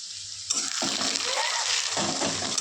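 Kharkol (ghetkul) leaves dropped into hot oil in a pan, sizzling steadily with brief stirring scrapes, close and fairly quiet, with no talk.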